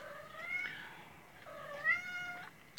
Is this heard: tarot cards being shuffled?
no